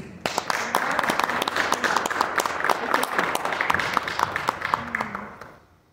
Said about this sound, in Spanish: Quiero que le demos un fuerte aplauso.